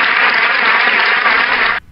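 Crowd applause welcomes a guest on a podcast about geodesy. Dense, steady clapping sounds close and loud for nearly two seconds, then cuts off sharply.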